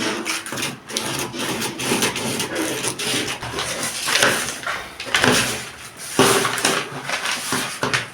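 Scissors cut a paper trouser pattern nearby, giving irregular crisp snips and rustling paper crackle in uneven bursts, with no talking.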